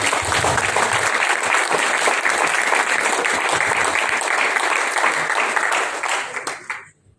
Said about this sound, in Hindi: अकरम जावेद सर के लिए जोरदार तालियां